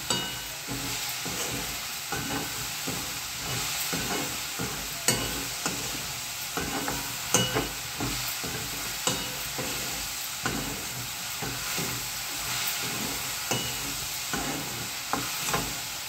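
Okra and green chillies frying in a pan while being stirred, a steady sizzle under repeated scraping strokes of the spoon, close and continuous with no talking.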